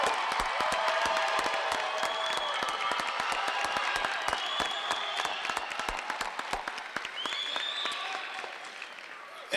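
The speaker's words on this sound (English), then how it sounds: "let's give them a round of applause" Sustained applause from an audience honoring young students at a school district awards ceremony, dense steady clapping with scattered cheers and voices mixed in throughout.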